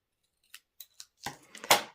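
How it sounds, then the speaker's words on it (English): Paper snips cutting a stamped paper strip: three small crisp clicks of the blades followed by two longer rasping cuts, close and clear with no talk. "just take a pair of paper snips and cut between the 2 words."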